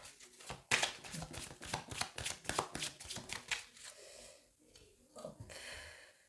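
Tarot cards shuffled and cut by hand, a quick run of crisp riffling snaps and flutters for several seconds, then a softer tap and slide as the deck is cut, close and fairly quiet.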